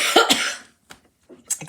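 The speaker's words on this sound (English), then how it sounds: "I apologize for coughing throughout this to-go class" A person with a cold coughs in two or three sharp, close bursts during a stamping and card-making class, then a few softer throat sounds and a faint clearing follow after a short pause.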